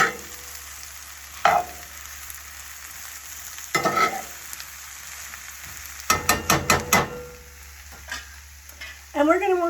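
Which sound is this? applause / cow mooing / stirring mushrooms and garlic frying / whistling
stirring mushrooms and garlic frying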